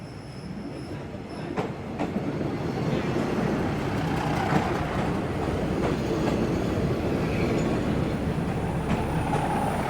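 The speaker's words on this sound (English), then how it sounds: "the train, it's actually going pretty fast" A passenger train on the Mahachai railroad line in Samut Sakhon, Thailand, rumbles in close and loud, with clattering wheels, metallic squeals and clicks over a continuous heavy roar.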